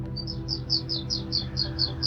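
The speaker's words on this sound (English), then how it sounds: "I like that bird sound." A bird repeats a high, bright chirp about ten times in a quick, even rhythm over a low, steady background hum.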